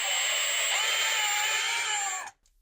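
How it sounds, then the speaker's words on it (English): A power screwdriver runs steadily, driving and snugging screws on a Delta shower trim kit; a close, continuous whine with a slight pitch dip midway, stopping abruptly near the end. "then you can switch to the screwdriver"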